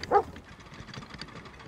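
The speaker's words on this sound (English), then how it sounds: "whose dog is barking" A single short dog bark, close and moderately loud near the start, followed by a low muffled background rumble.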